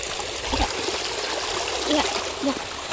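Water trickles and burbles steadily in the background, with faint voices murmuring now and then over the flow.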